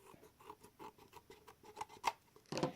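Scissors snip through scrapbook paper while trimming an oversized edge on a covered gift box, a quiet run of regular close snips followed by a couple of louder crisp cuts and a brief rustle at the end.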